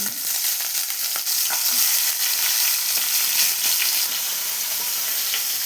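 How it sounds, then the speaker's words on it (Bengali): Koi fish coated in turmeric and salt fry in hot oil in a wok, giving a loud, continuous crackling sizzle with scattered pops and a few stirring scrapes throughout. "কড়াই বসিয়ে তেল দিয়ে দিয়েছি দেখো মাছগুলো ভেজে নেব"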